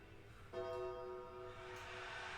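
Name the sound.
gong sounding in a played wrestling event video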